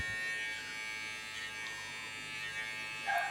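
An electric hair clipper buzzes steadily while cutting hair for a third fade gradation, a continuous close motor hum with slight changes in pitch as it moves through the hair.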